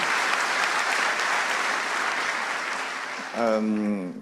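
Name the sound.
audience applauding Rodolphe Gelin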